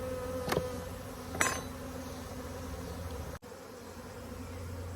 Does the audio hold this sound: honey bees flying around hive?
yes